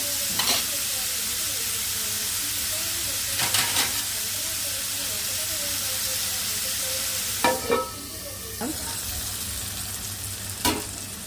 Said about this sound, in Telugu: టమాటా మగ్గుతుంది.